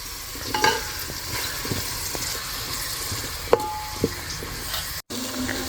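Potatoes frying in a pan and being stirred, with a steady sizzle and occasional scrapes and clinks of the spoon, close and fairly quiet, no talk.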